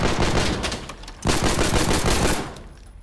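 Rapid bursts of gunfire from weapons in the shooter game Insurgency Sandstorm, loud and dense, with a brief gap near the middle before another sustained volley that tapers off toward the end.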